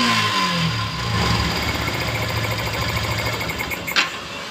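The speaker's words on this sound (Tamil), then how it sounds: "இப்போ வந்து நம்ம வந்து வண்டியை வந்து ஸ்டார்ட் பண்ணி பார்ப்போம்." A Yamaha FZ motorcycle engine after a clutch plate replacement, heard running loud and close from the start with a steady, even mechanical drone.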